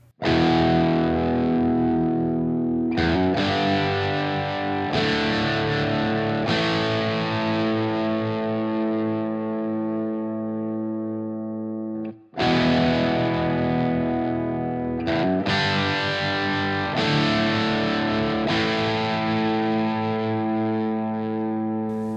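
A distorted electric guitar strums sustained, ringing chords through an amp, with pauses between, one brief gap, then the riff repeats loudly.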